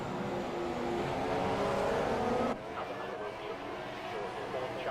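A Ferrari Formula 1 car's engine in the F1 2017 racing game at Baku, a loud, sustained high-pitched whine climbing in pitch, then cutting abruptly partway through to a lower, rougher drone, with voices talking over it.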